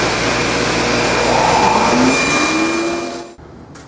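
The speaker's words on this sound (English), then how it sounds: "I'm going to go ahead and cut the shoulders on these tenons." A table saw runs loud and close as its blade cuts the shoulders of wooden tenons, a continuous whining roar that tapers off and stops near the end, with no voices.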